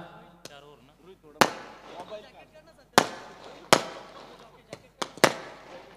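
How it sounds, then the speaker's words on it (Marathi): Fireworks open the final night of a cricket tournament: several sharp, loud cracking bursts, spaced irregularly and then coming faster near the end, while someone speaks into a public address between the bangs. "फटाक्यांच्या आतषबाजीत आजच्या शेवटच्या रात्रीची सुरुवात होत असताना"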